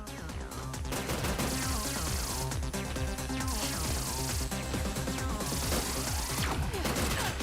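Cannons fire repeatedly in the game Terminator 2D No Fate, a dense run of punchy, crashing blasts over continuous game music.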